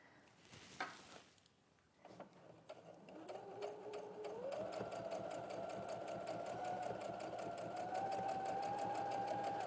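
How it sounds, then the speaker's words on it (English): A sewing machine top stitches with a slightly longer stitch, first a few handling noises, then a steady whirring hum of rapid stitches that holds near and even to the end. "it's a top stitch, so you might want to do a slightly longer stitch"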